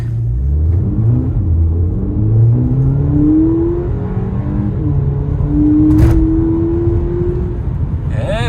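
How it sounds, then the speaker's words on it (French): A Volkswagen Polo GTI in sport mode launches hard with launch control, its engine droning loud and close as revs climb through gears, with a brief upshift break near the end. "Petit launch control, c'est parti."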